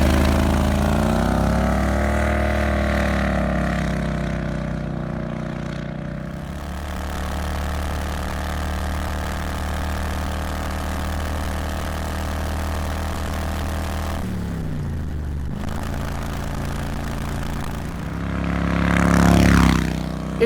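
A 1969 Renault R10 fitted with a Harbor Freight 670cc Predator lawnmower engine accelerates, its steady, loud engine drone climbing in pitch, briefly dropping around a gear change, then rising again near the end.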